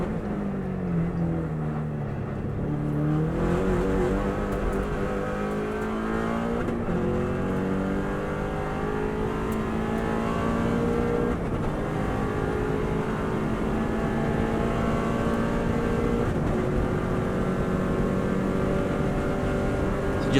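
A Subaru WRX STI running flat out on the Isle of Man TT road course, its engine loud and sustained, climbing through the revs with brief dips at gear changes.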